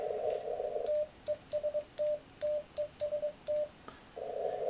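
Morse code CW call keyed on an Elecraft K3 radio: a steady tone broken into short and long beeps in a quick irregular rhythm, bracketed by brief stretches of continuous tone, fairly faint.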